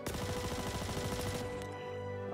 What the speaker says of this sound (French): on va essayer de tirer en rafale et de contrôler la rafale